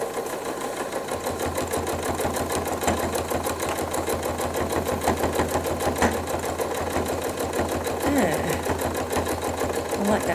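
A sewing machine stitching couching cord onto a fabric bag runs in a steady rapid rhythm throughout, close and even, with a person talking over it.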